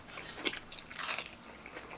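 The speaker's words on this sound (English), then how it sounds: "The wings are crunchy." Crunchy Popeyes ghost pepper chicken wings being bitten and chewed up close, a crisp crackle of breading in quick, uneven crunches without any talking.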